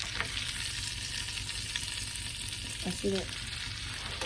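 Duck breast frying in browning butter in a pan, a steady close crackling sizzle throughout, with a brief spoken voice near the end.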